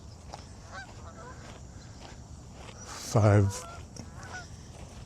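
Canada geese honk while flying past a lake below a dam, with one loud, close burst of several honks in the middle over faint background noise and footsteps, and a person speaking briefly.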